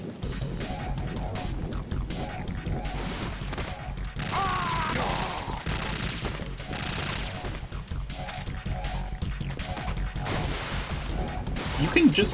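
Rapid bursts of gunfire from the video game Metal Gear Solid 2 run almost nonstop, dense and fairly loud, with crashes and impacts mixed in and game sounds layered throughout.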